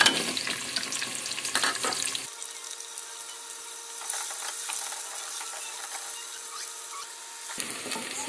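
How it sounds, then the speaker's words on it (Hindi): Chopped onions dropped into hot oil for a beef shorba, frying with a steady broadband crackle and hiss that changes character partway through, with clinking and stirring noises near the start and end and no voices. "जब ऑयल अच्छी तरह से गरम हो जाए तो हम इसमें ऐड करेंगे प्याज।"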